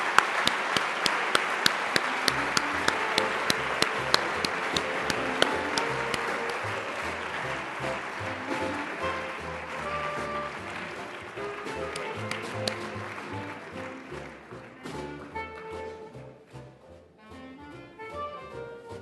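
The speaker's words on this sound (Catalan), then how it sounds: "Un aplaudiment." Audience applause at a medical excellence award ceremony, opening with distinct claps that swell into steady, full clapping from a large crowd, then gradually thinning and fading out toward the end.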